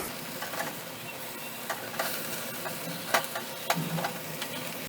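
Tandoori chicken pieces sizzle steadily in a pan on the stove as they are turned, a continuous frying hiss broken by a few sharp clicks and scrapes, close and moderately loud.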